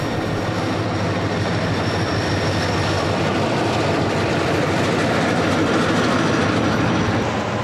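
Westbound D&H freight train rolling past at close range, a loud continuous rumble with rail car clatter and steady wheel noise throughout.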